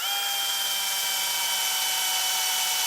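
A power screwdriver drives a screw into an aluminum rod on a three-layer quail cage, giving a steady, continuous high-pitched motor whine that holds for about three seconds with no talking.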